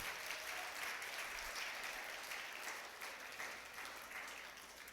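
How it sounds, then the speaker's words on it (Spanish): A church congregation claps for itself during a worship service, a continuous, fairly faint spread of many hands heard from a distance, level and unbroken. "Dese un aplauso a usted mismo porque hizo un buen trabajo."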